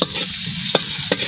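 Potatoes fry in hot oil in a pan with a loud, steady close-up sizzle, broken by two or three sharp clicks of a spatula stirring.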